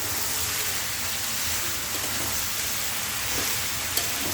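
Malabar spinach leaves and flowers being stirred in a frying pan, giving a steady, close sizzle with soft scraping throughout and no talking.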